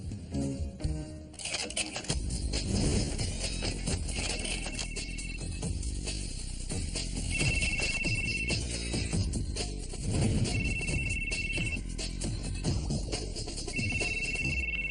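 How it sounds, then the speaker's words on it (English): A telephone rings repeatedly in steady, loud bursts over a busy background of music and room noise, with no talking over it. "Answer your phone."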